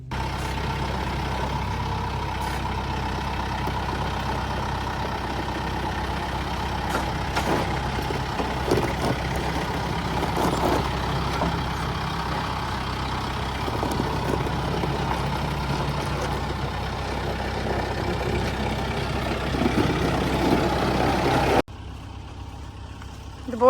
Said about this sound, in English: I'm gonna go get the tractor.